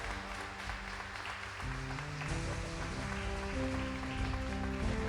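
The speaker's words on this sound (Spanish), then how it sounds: "junto al aplauso de todos nosotros" Audience applause at an event welcoming a pilot, a steady wash of clapping heard fairly faintly and continuously throughout.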